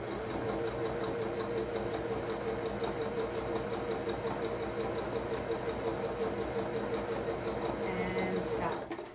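A sewing machine stitches fabric in a steady, fast mechanical run, close and fairly loud, continuing without pause and ending abruptly near the end.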